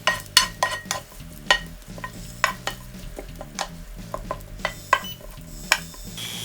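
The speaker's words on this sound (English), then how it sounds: "Not only are we going to get crispy garlic chips out of this, but we're also flavoring the oil for later." Garlic frying in oil in a pan, a steady close sizzle broken by sharp clinks of a utensil stirring against the metal.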